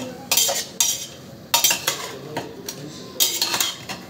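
A metal spoon stirs and scrapes food in a pot while cooking masala rice with mung dal, giving repeated clinking, scraping strokes in an irregular rhythm, close and fairly loud, with no talking.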